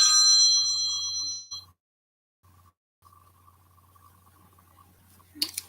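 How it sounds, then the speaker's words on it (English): A phone rings with a bright electronic ringtone that lasts for a second or so and then cuts off. A quiet pause follows, then a low steady hum with a brief clatter at the end. "My phone is ringing."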